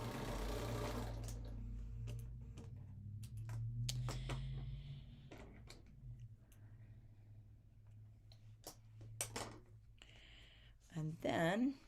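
Sewing machine stitching through quilt pieces in a quilting class, a steady whirring run for several seconds, then scattered clicks and taps with a few short bursts of stitching near the end.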